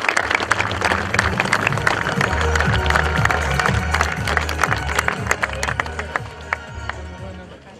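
A crowd applauds at the opening of Yezidi national heroes' monuments in Armenia, with steady dense clapping throughout that eases off slightly toward the end, and a voice speaking faintly beneath it.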